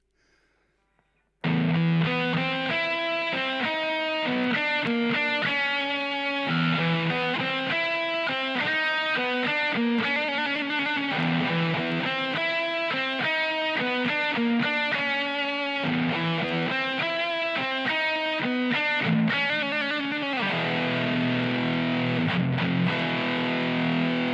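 Heavily distorted electric guitar through an amp simulator with a cabinet IR loader on iOS plays a chugging, driving riff with sustained chords, loud and continuous after a brief silence at the start.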